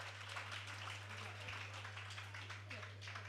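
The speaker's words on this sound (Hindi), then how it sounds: "अब एक बार तालियों की गड़गड़ाहट के साथ इन युवा लोगों का सम्मान करते हैं" Faint, steady applause from an audience at a Jain monk's question-and-answer gathering, honouring young people, with dense clapping spread evenly over a few seconds beneath a low electrical hum.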